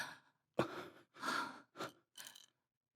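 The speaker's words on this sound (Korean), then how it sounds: "숨소리가 고르지 않아요" Uneven breaths sound close by, a sharp gasp followed by a few ragged, irregular inhales and exhales separated by short silences, from a suddenly ill man with an unstable, quickening pulse in a radio drama.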